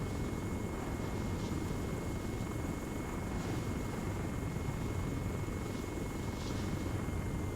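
A helicopter in ARMA 3, flown on a joystick with the RHS mod, produces a constant dense rotor and engine roar with faint rhythmic blade pulses, continuous and without talk.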